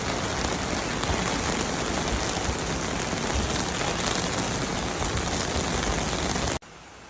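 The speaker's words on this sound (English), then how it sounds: "Look at that rain." Steady, dense rain hisses continuously on surfaces, loud and close, then cuts off abruptly just before the end.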